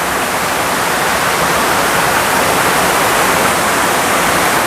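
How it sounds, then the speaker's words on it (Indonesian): The fourth waterfall at Curug Paniis in Pandeglang pours into its pool with a loud, dense, unbroken roar of rushing water, steady throughout and very close. "Jadi ini adalah air terjun yang keempat dan ini adalah kolamnya."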